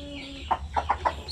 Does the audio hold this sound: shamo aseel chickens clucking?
yes